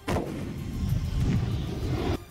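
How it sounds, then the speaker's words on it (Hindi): Russian artillery guns fire in close succession, a loud sustained rumbling blast with deep low booms that cuts off abruptly, heard alone without talk. "वहां एक के बाद एक दनादन धमाके होते रहे।"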